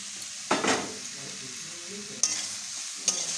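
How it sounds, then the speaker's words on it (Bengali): Grated coconut frying in a hot wok for kuli pitha, a soft sizzle broken by three sharp scraping stirs of a spatula against the metal, close and with no talking. "নারকেলটা একটু ভেজে নেব।"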